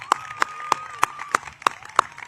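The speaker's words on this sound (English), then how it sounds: "Round of applause." Hands clap at a high school graduation ceremony in a slow, even rhythm of about seven sharp claps, fairly close, from only a few people rather than a full crowd.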